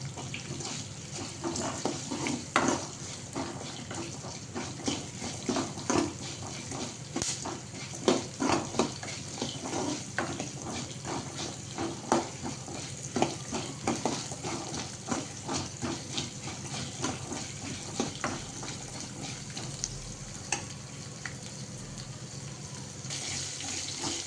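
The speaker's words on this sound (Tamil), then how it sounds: "இப்போ இதை நல்லா ஃப்ரை பண்ணிக்கலாம்." Small shallots frying and being stirred in oil for a Chettinad country-chicken gravy, a continuous crackling sizzle with scattered sharp pops, steady throughout with no talk.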